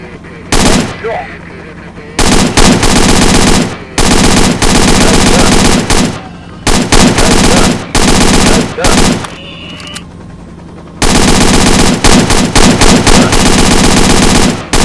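Heavy automatic gunfire from a helicopter during a hog hunt comes in long, loud, sustained bursts separated by short pauses, close and dominant throughout.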